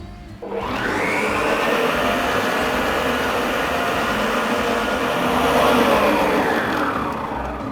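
A kitchen machine mixing cake batter of flour and baking powder, a loud, steady motor whir with churning noise that runs unbroken for several seconds without talk.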